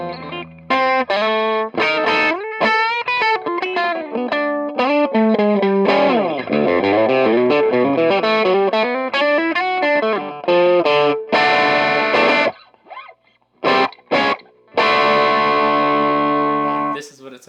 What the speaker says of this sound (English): This is what it sounds like on the baritone.